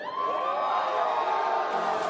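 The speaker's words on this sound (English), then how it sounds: "Crowd loves to hear that." A crowd at a BCX 2023 losers final esports match, Sandstorm vs. Impala, cheers and whoops in a continuous loud roar, with no clear speech over it.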